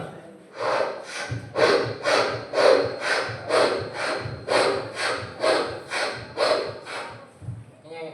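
At a church day celebration, a voice imitates a saw cutting wood: a steady series of rasping back-and-forth strokes, roughly one or two per second, loud and close.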